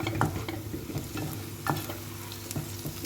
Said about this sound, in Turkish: Evet bunu böyle kavurmaya devam edeceğiz.